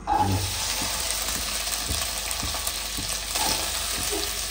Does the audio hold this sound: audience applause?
no